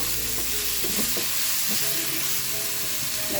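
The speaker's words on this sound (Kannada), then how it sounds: "ಟೊಮೊಟೊ ಕೂಡ ಸಾಫ್ಟ್ ಆಗೋ ತನಕ ನಾವು ಬೇಯಿಸ್ಕೊಬೇಕು" Tomatoes with salt cook in a hot pan, a steady sizzle running throughout while a spoon stirs and scrapes in short repeated strokes.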